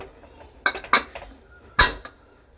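A pressure cooker lid is shut in a home kitchen during cooking, giving a few sharp, close metallic clanks and clatters separated by brief pauses.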